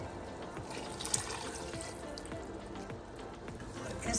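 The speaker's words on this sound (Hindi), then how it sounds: "थोड़ा सा पानी भी इसमें हम और डाल रहे हैं।" Water is poured into a pot of chicken kabsa with gravy as it cooks, giving a steady, soft trickling and bubbling wash with small splashes throughout.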